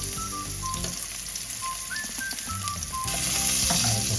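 Onions hitting hot annatto oil in a pan while cooking kare-kare, with a loud, close, continuous sizzle that swells near the end, no voices.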